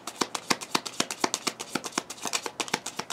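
Tarot cards being shuffled and pulled, a quick regular run of crisp flicking snaps about every quarter second, close and clear, with no talk over them.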